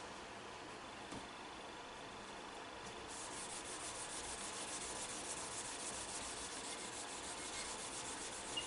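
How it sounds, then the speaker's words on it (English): A duster rubs and buffs walnut oil wax off a wooden surface, a continuous soft scratchy swishing that picks up slightly partway through, close but quiet. "Just buff all that off."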